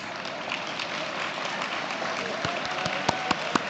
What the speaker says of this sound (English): Round of applause for the ice cream.